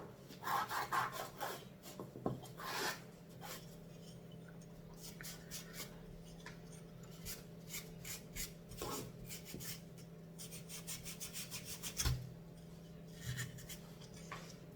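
A Scotch-Brite pad rubs and scrubs over a metal surface to clear dust, a quiet, close rasping in uneven strokes with a few faint knocks between them.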